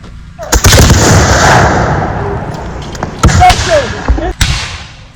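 Musket volleys at a Revolutionary War battle reenactment by a fenced house, a British lieutenant leading an assault: loud sharp reports, some overlapping and some spaced apart, with a rumbling echo trailing through the scene.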